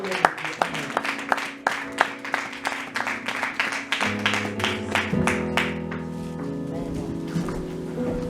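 Congregation clapping in rhythm at a French-language Assembly of God church service, steady loud applause that swells and then fades out, with singing or music rising beneath it toward the end.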